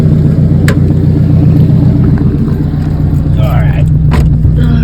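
A loud car engine, a B-Series motor, drones steadily from inside the cabin while driving, a strong low rumble with faint clicks and a voice speaking briefly over it.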